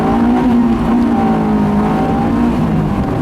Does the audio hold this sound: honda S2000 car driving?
yes